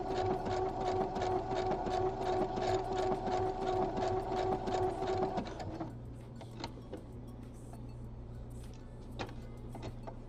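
A domestic sewing machine stitches a bodysuit sleeve, running in a steady, fast whirring buzz nearby for about five seconds before it stops, leaving a low background hum with faint clicks.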